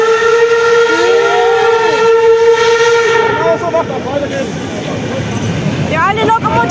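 Historic steam locomotive on a special run for the 150th anniversary of the Vizinalbahn, arriving with a loud, sustained multi-tone whistle followed by rumbling approach noise, with people talking nearby.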